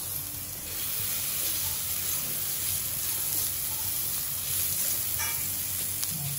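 Butter sizzling and frying in a pan as the base for a chicken macaroni soup, a steady close hiss that holds through the whole clip with no talk over it.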